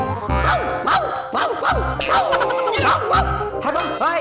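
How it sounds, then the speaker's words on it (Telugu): A dog barks repeatedly at close range, loud rhythmic bursts about every half second with whiny, yelping tones between them, filling the whole stretch. "ఏమా కుక్క మళ్ళొచ్చింది."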